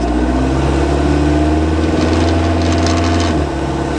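Diesel engine of a right-hand-drive Jeep TJ with an AW4 automatic transmission, droning loud and steady at close range, its pitch dropping near the end as the gearbox shifts.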